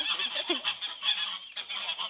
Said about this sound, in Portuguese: É ganso.